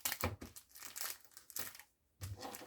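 A crinkly wrapping piece is crumpled and folded over up close, giving several bursts of crackling with a short silent gap before a final crinkle.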